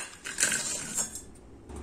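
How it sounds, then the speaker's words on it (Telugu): Pieces of jaggery tumble into a metal bowl for poha payasam, giving a brief cluster of hard clinks and rattles, close and fairly quiet, with no talking. "1 గిన్నెలోకి 1 కప్పు బెల్లం ముక్కలు వేస్తున్నానండి."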